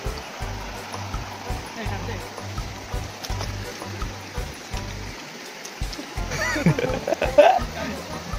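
Necklace Waterfall near Trimbakeshwar in Nashik, a steady rushing stream of falling water heard close by, continuous and fairly loud, with people talking over it.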